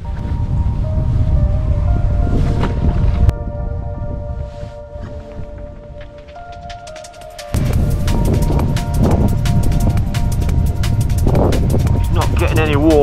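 Cold wind gusting across a winter fishing lake, a loud rumbling buffet on the microphone that drops briefly and then returns in strength, with some faint tonal sounds mixed in.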